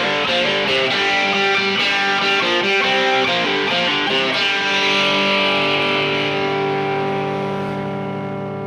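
A single coil electric guitar played through an OCD overdrive pedal gives loud, gritty distorted chords with a hissing noise floor, ringing out and slowly fading at the end.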